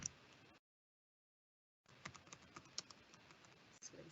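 Rapid typing on a computer keyboard, close and quiet, with irregular clicks and clacks in two bursts separated by a short silent pause.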